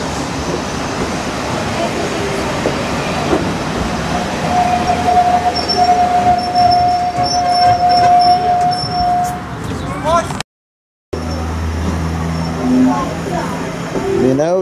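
Steam locomotive 5542 pulls away from Washford station on the West Somerset Railway, a loud, continuous rumble of carriages and wheels with a long whistle-like tone midway and a brief dropout near the end.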